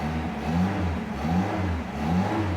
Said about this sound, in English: No, it won't build positive boost revving the engine.